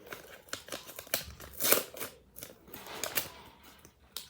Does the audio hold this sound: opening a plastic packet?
yes